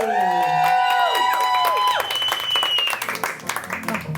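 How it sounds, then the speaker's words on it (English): A studio audience applauds and cheers for the two hosts of a live K-drama talk show, a dense, loud wash of clapping and whoops under bright swooping music that fades toward the end. "please give it up, put your hands together, and clap for your hosts, Dulce Sloan and Chrissy Choi"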